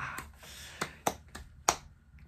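A few sharp, isolated hand claps, about four or five, spaced irregularly and fairly close, in a quiet room with no talking.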